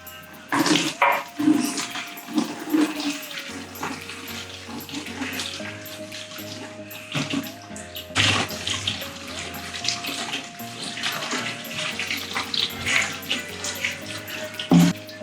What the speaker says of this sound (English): I'm just gonna let it drain for a minute.